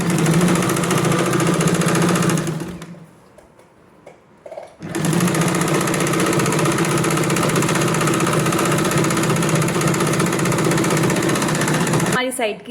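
A sewing machine stitching a straight side seam on girls' shorts, running loud and steady with a whirring buzz, pausing briefly partway through before resuming at full speed.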